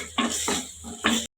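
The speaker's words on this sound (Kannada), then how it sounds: "ಈಗ ಈರುಳ್ಳಿ ಕೂಡ ಚೆನ್ನಾಗಿ ಫ್ರೈ ಆಗಿದೆ" Chopped onions fry in a pan on the stove, a soft steady sizzle broken by a few short stirring scrapes, close and moderate in level, then cutting off into silence.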